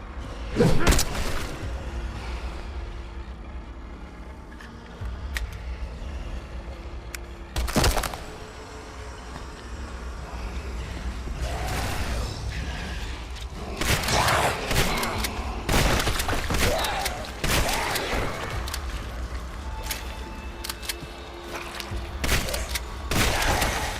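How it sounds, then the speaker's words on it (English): Gunfire in the horror video game Bleak Haven, several sharp broadband shots and bursts scattered across the stretch, loud and close over a steady low ambient drone, with a cluster of rapid blasts toward the middle and end. "I have to shoot."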